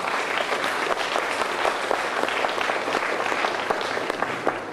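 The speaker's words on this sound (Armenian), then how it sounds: "մեր ջերմ ծափողջույնները Լուսինեին" An audience claps warmly for the poet Lusine at a book launch event, dense, even applause filling the room for several seconds without a break.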